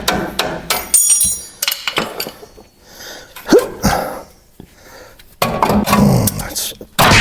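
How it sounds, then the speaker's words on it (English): Several loud, irregular hammer blows on a Ford Bronco's brake caliper, clanging sharply on metal with brief pauses between strikes, close by, in a junkyard. "Hammer fist that right off of there."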